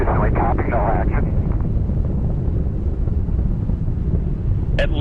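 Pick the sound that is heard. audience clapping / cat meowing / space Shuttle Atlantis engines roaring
space Shuttle Atlantis engines roaring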